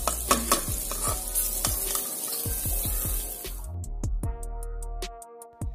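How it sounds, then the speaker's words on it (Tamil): Potato pepper fry being stir-fried in a pan on the stove: a steady sizzle with repeated scraping and clinking stirring strokes, close up, with no talk. "5 மினிட்ஸ் ஸ்டவ்லேயே வச்சு நல்லா வணக்கிட்டு இறக்கிடுங்க"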